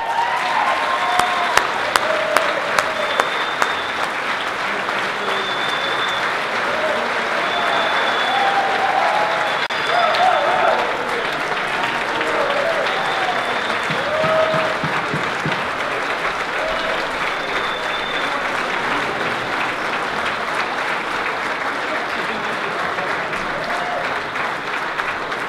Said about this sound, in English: let's give a bigger round of applause to our first recipient, Ben Kabishka.